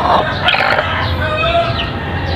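A brooding Texas-breed hen clucks in soft, low murmurs amid broadband farmyard noise, steady throughout with no crowing.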